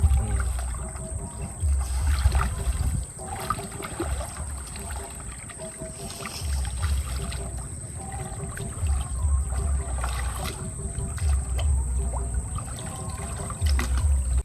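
Strong water current rushing through a Sundarbans tidal canal during net fishing on a moonlit night, a steady close churning and trickling wash with boat-like sloshing that holds throughout, no speech.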